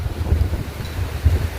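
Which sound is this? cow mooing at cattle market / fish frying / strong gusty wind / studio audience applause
strong gusty wind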